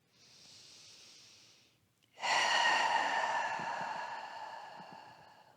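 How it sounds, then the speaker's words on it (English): During chair yoga, one person takes a deep breath: a soft inhale, a brief pause, then a long, loud airy exhale that slowly fades. It is heard close and alone, with no talk. "Take another breath."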